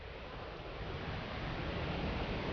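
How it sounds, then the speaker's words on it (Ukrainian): Iguazu Falls in an Argentine national park roars as a dense, continuous broadband rush of falling water, steady and loud with no voices. "Водоспад Ігвасу в національному парку Аргентини знаходиться на перетині трьох країн"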